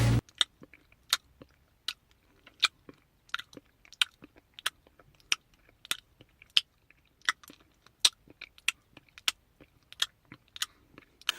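A voice imitates a wet mouth sucking sound, a steady series of sharp little clicks and smacks repeating for several seconds with no talking.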